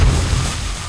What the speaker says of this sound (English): So I guess we'll see two explosions at once now.